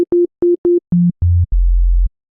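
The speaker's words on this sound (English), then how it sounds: "Nice, healthy sine wave, plenty of sub." Sine-wave sub bass from a Serum synthesizer for a liquid drum and bass line: clean short tones in a quick rhythm, stepping down in pitch to a long, deep sub note.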